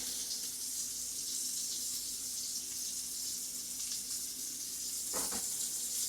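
Asparagus goes into a pot of water on a stove while preparing flank steak pinwheels, a soft steady watery hiss with a brief splashing disturbance near the end, faint and without speech.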